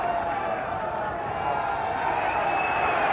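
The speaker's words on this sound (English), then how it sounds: "Once more the crowd up in arms, saying that Australia are inside the 5" Rugby league stadium crowd at a 1990 Kangaroos vs France test match, a steady roar of many voices protesting, continuous and fairly loud from start to finish.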